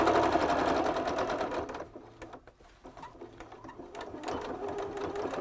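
A sewing machine stitches a hem around a dress pant leg, a rapid, even mechanical whir that runs loud and close, then slows into quieter, scattered clicks and taps before picking up again.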